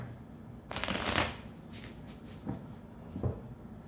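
Tarot cards are shuffled by hand in several short bursts: a longer riffling rush near the start, then two brief snaps later, close and fairly quiet, with no talking.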